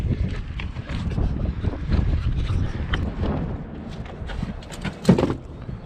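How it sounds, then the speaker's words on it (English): Strong gusting wind roars across a microphone on a stormy mountain at Breckenridge after snowboarding park laps, a steady heavy rumble with a sharper buffet near the end and no talking. "It is windy as can be."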